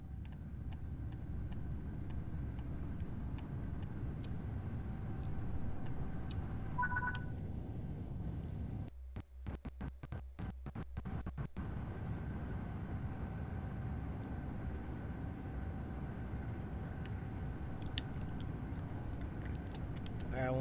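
An Acela train runs in Train Sim World 3 with a steady low rumble and hum of motor and rails, a faint electronic tone and a burst of rapid clicking ticks partway through, fairly quiet throughout.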